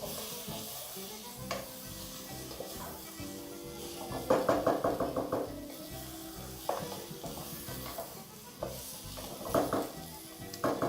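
Mutton and spices being stirred together in a pot for biryani, giving a steady scraping stir with a light sizzle and several sharper clinks of the spoon against the pot, close and alone.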